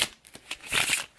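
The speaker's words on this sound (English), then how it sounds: "I'll give this a few shuffles on camera so you guys can see I'm not up to any funny business here." A deck of playing cards riffled by hand up close, a brisk run of papery flicks and slaps building into a dense fluttering burst before stopping.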